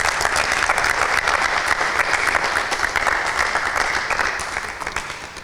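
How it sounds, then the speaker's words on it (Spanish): Loud, sustained applause from a congregation at an Assembly of God church, a dense steady clatter of many hands that carries on throughout and tapers slightly at the end. "Podemos dar fuertes aplausos por él."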